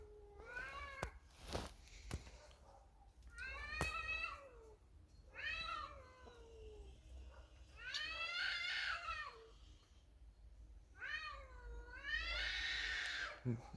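Two cats yowl back and forth in long, wailing caterwauls, rising and falling, with brief quiet gaps between the drawn-out cries.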